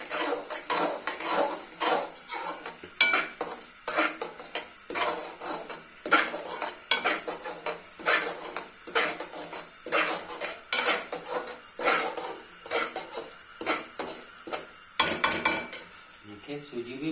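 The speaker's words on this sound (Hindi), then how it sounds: "इस तरफ सूजी को भी मुसलसल गला ला के भूनते जाएंगे" Metal utensil scraping and clinking steadily against a pan as semolina is stirred and roasted in oil for a Pakistani sehri dish, with a faint sizzle beneath the repeated close-up scrapes.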